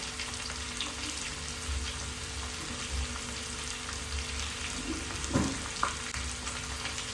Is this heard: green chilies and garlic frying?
yes